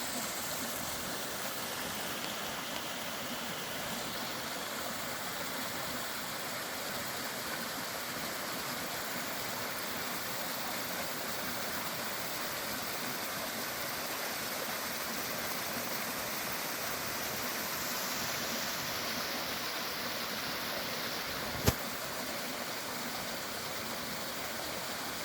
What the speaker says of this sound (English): right across from where I'm parked is another little waterfall.